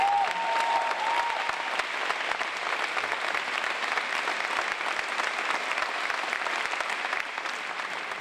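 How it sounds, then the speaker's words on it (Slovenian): Concert audience applauds a big band, a dense, steady wash of many hands clapping that holds evenly for the full stretch, with a brief faint tone near the start. "tako da en aplavz, lepo prosim"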